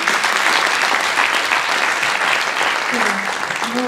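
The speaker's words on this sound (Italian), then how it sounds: "Un applauso." Enthusiastic audience applause at a mayoral campaign event in Civitavecchia, a loud, dense wash of clapping throughout, with a few voices briefly audible near the end.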